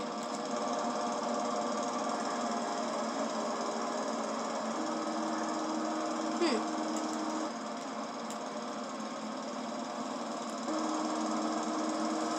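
A riding lawn mower with a big deck runs at a steady loud drone, its engine humming continuously with a slight shift in pitch partway through and one brief higher squeak, close and alone.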